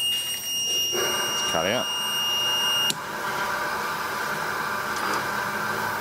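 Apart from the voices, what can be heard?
die sink EDM machine alarm beeping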